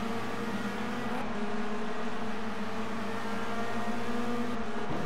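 Renault Clio Cup race cars at the Dijon circuit drone past in a continuous, loud engine roar, with steady revving and slight pitch shifts, and no voices over them.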